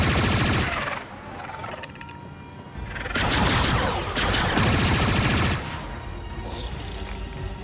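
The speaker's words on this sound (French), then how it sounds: "Fusil blaster lourd. Canon rotatif, on va se prendre ça." Heavy rotary blaster cannon firing in the video game Star Wars Outlaws: loud, dense sustained bursts of rapid fire, two long volleys separated by short pauses, with no one speaking over them.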